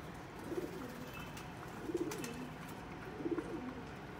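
Pigeons, a female among them, give three soft, fairly distant coos at evenly spaced intervals against a quiet background.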